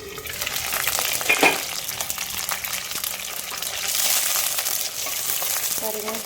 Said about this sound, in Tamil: இருங்க, இது கொஞ்சம் நேரம் வதங்கட்டும்.